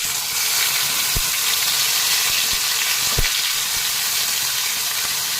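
Marinated hilsa fish, coated in salt and turmeric, drops into hot oil with tempered spices and sets off a loud, steady sizzle and crackle. A few sharp spits and pops rise above the frying hiss, and no one speaks.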